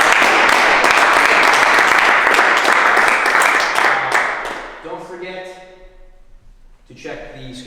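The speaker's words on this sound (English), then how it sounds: "One more round of applause for everybody." Loud, dense audience applause at a community car build event fills the first few seconds, then tapers off as a few voices speak over the fading claps.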